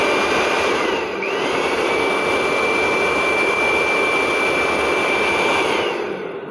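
Indian Boss mixer grinder motor running at speed 1, a loud steady whirring whine with a sustained high tone, holding constant for several seconds before easing off at the end.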